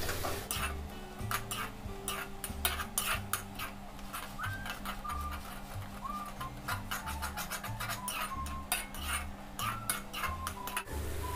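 A spatula scrapes and taps quietly and rhythmically in a pan as mint paste is stirred and fried for vegetable pudina pulao, a soft, even ticking with a faint low hum beneath.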